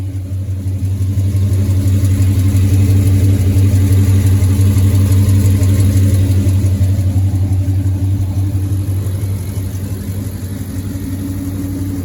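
A Dodge SRT8 with a 6.4 engine and long tube headers idles with a deep, steady, close rumble that holds even and smooth without revving.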